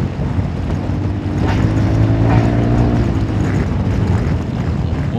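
A Honda Forza 350 scooter engine revs under throttle, a low droning hum that climbs and holds at a higher, louder pitch partway through.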